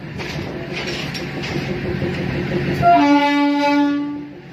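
Locomotive horn blasting near the track as elephants cross, a long loud steady blare starting partway in and holding to the end over rumbling rail and engine noise.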